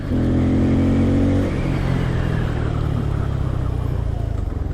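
A 2022 Bajaj Pulsar N250 motorcycle rides and slows under rear braking, a loud close engine rumble that steadies and then drops in pitch as the bike decelerates.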